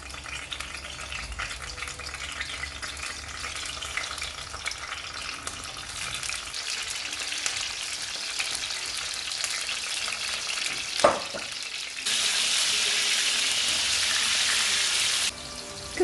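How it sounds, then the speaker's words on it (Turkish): Eggplant sizzles steadily in hot oil. A clank sounds partway through, then the frying swells into a louder, hissing crackle for a few seconds. "Yağımız ısındığı zaman kızartmaya başlıyorum."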